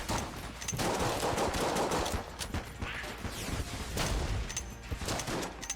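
Pox cannon gunfire in the video game Enter the Gungeon: rapid, dense bursts of shots and impacts, loud and near, coming in clustered volleys with brief gaps between them.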